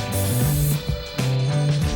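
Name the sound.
spray painting guitar pickups silver with spray can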